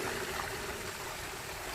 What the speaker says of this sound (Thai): นี่ครับอันนี้คือระบบทำงานแล้วได้ยินเสียงน้ำไหลนะครับเนี่ยตอนนี้น้ำทำงานแล้วครับ